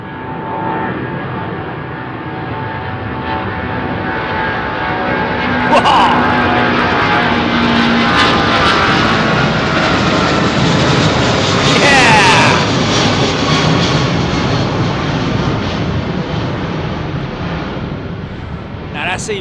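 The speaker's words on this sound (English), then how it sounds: "I think it's possibly Rolls-Royce Trent 8s on that American 777-2." An American Airlines Boeing 777-200 with Rolls-Royce Trent 800 engines passes at London Heathrow, a loud broad roar swelling and easing with rising whine tones, while people talk over it.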